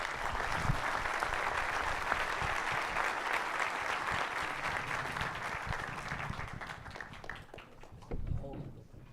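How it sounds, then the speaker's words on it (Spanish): An audience at an academic conference applauds loudly and steadily for several seconds before the clapping thins and fades; a voice speaks briefly near the end. "un fuerte aplauso nuevamente"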